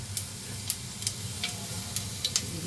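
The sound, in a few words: cumin sizzling in hot oil for pickle tempering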